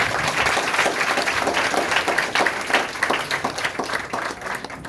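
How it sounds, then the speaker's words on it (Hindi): Audience bursting into strong applause at a Vestige marketing business event, dense rapid clapping from a large crowd, loud and continuous, slowly thinning toward the end. "एक बार जोरदार तालियां।"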